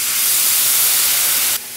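Orange juice hits a hot pan as it is deglazed after cooking salmon, giving a loud, steady close-up hiss of steam that runs for over a second and then drops suddenly to a softer sizzle.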